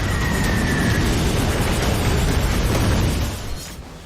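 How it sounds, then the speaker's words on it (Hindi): Gunpowder explosions and falling missiles make a loud, sustained rumbling roar that holds steady, then fades away near the end. "बारूद फटने लगा है।"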